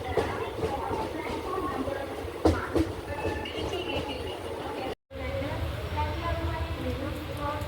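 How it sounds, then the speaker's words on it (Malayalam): Diesel-hauled Velankanni Express pulling into Chengannur railway station on platform 1, a steady mid-level rumble of rolling cars and engine noise mixed with crowd chatter on a busy platform, with a brief dropout near the middle. "ചെങ്ങന്നൂർ റെയിൽവേ സ്റ്റേഷനിലേക്ക് ട്രെയിൻ എത്തിയിരിക്കുകയാണ്"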